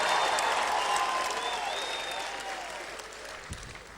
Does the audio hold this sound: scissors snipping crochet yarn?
no